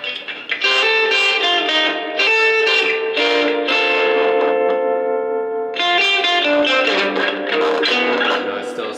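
Loud, sustained chords from a Traveler Guitar Pro electric guitar drenched in heavy amp distortion, ringing out with a brief break before another strummed chord.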